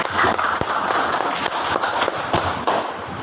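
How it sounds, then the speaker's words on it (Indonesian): Applause in a classroom, a short burst of many hands clapping together, dense and fairly loud, with a few sharper individual claps standing out before it tapers. "terima kasih tepuk tangan buat Anda"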